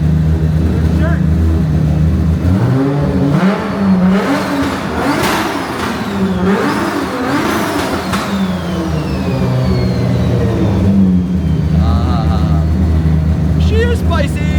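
A Mazda RX-7 FD engine running steadily and loud throughout, a continuous rumbling drone with slight rises in revs, while people talk over it.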